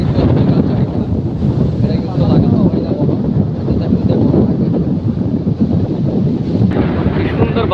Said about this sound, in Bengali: এই গরমে সাগর পারে বাতাস বাতাস